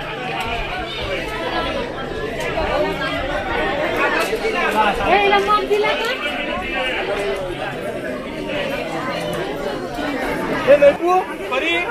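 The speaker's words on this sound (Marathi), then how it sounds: "तर आज खूपच गर्दी आहे," Dense crowd chatter on a busy Sunday at the Rajapur Ganga fair, many voices overlapping into a continuous close babble.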